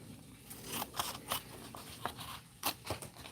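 Scissors cut paper for junk journal pages in a quick run of close, crisp snips and crunching slices, faint and repeated several times over a few seconds.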